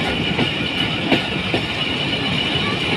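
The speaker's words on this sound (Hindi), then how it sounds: "ट्रेन आगे से गुजर रही है या आ रही है?" The Mehr Express passenger train rolls past near Muzaffargarh, a loud, steady rumble of wheels on rails with faint rhythmic clacks throughout.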